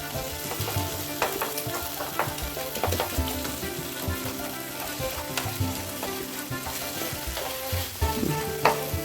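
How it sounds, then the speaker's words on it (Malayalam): Onions and tomatoes frying in a pan while being mashed, a steady close sizzle with scattered scraping and tapping of the utensil against the pan, no talking. "ഇനി ഒന്ന് കയ്യിൽ വെച്ചിട്ട് നമുക്കൊന്ന് ഇതൊന്നിങ്ങനെ ഉടച്ചു കൊടുക്കാം."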